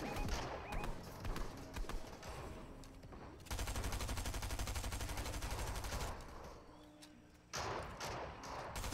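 Rapid bursts of gunfire in a Fortnite duos cash cup match, dense and sustained through the middle with scattered shots before and after, loud and close with game sounds around it.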